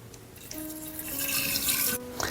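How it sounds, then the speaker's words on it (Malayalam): Previously boiled and cooled water is poured into a jar for homemade wine, a short steady trickle whose pitch rises as the vessel fills, ending with a few splashes. "ഇനി നമ്മളിതിലേക്ക് നേരത്തെ ചൂടാക്കി ആറ്റി വെച്ച വെള്ളം ഒഴിച്ചു കൊടുക്കുക"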